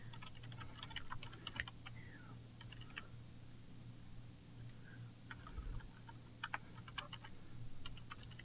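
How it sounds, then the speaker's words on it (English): Irregular bursts of computer keyboard keystrokes, quiet and close, with short pauses between runs of typing over a steady low electrical hum; nobody speaks. "And type in the serial number"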